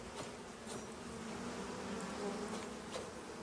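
Bees in the survival video game Icarus give a steady, continuous buzzing drone, fairly faint and even throughout, with no talk over it.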